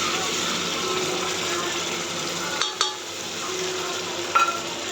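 Ginger garlic paste with salted onions for a chickpea kulambu sautéing in a pan makes a steady, close frying hiss, with a couple of light utensil taps against the pan.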